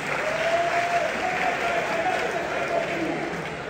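A crowd applauds steadily and loudly throughout, dense clapping at a public event with a faint whistle-like tone running through it.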